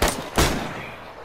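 Two sharp gunshots crack close together in the DayZ video game on PS4, each with a brief reverberant tail fading out.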